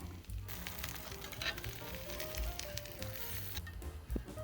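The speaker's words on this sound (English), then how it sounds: "We're going flesh side down into our preheated pan to get a nice hard sear." Lobster searing flesh side down in a preheated pan, a steady close sizzle with crackling pops running throughout at moderate level, no talking.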